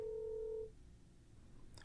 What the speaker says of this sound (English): Why is your phone going off at this time of night?